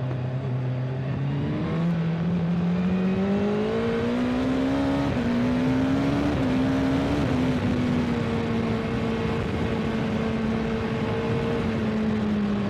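A 2024 BMW S1000RR superbike engine heard from the rider's seat, droning steadily and climbing through the revs with a couple of short dips between gears. The sound is loud, close and continuous, with no voices.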